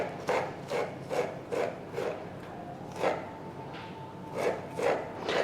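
A knife chops an imported onion on a cutting board in small pieces, giving a steady series of about ten crisp, close taps with short pauses between them and no talk.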